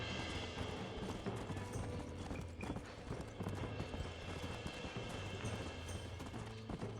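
Steady clip-clop of horse hooves in Red Dead Redemption at a quick, even pace, continuous and fairly loud against a busy background of game sounds.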